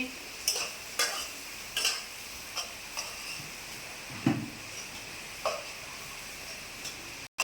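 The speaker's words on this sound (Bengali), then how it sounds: "তেল দিলাম একটা শুকনো লঙ্কা ফোড়ন দিলাম আর এই যে কালো জিরে দিলাম" Dry red chili and black cumin spluttering in hot oil, a faint, quiet sizzle under a steady series of light spatula clicks and taps against the pan, roughly one each second.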